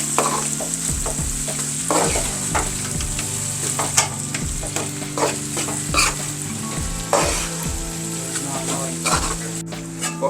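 Peeled garlic fries in hot oil for a spicy prawn-garlic curry, a steady loud sizzle broken by repeated scraping stirs, close up, with a low hum and faint background sounds running underneath.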